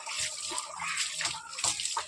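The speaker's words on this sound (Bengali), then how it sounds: "বললাম তাহলে আমি বাসন কটা গিয়ে ধুয়ে আসি" Dishes are washed under running water, a soft continuous splash and trickle with faint clinks, heard fairly close and alone.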